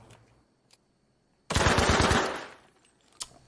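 Gunfire in the Battlefield V Firestorm video game: a sudden close, loud burst of rapid automatic shots lasting about a second, fading into a reverberant tail, with a single faint shot afterward.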